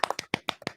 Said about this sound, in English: y'all just have to hear me clap